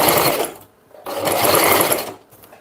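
A sewing machine stitches loudly and close up through fabric with pins still in it. Two quick whirring runs are split by a short pause.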